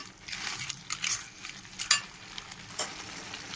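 A spice paste of ground cumin, coriander, black pepper and bay leaf sizzles in a pan as it is stirred, with soft scraping and a few light clinks of a utensil over steady close frying.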